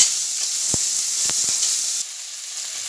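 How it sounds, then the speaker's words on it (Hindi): Garlic ginger paste and finely chopped onion fry in a pan, giving a loud, steady close-up sizzle with a few sharp crackles and pops. The sizzle drops slightly in level near the end, with no talk. "ये एक चम्मच लहसुन अदरक का पेस्ट और ये एक बारीक कटी प्याज, इसको हल्का ब्राउन करते हैं।"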